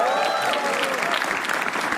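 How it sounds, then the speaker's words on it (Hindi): Audience applause and cheering for comedian Sumaira Shaikh at a stand-up roast show, a lively burst of clapping with a few whoops and whistles rising over the room. "एक्ट है हमारी सुमायरा शेख, उनके लिए तालियां प्लीज"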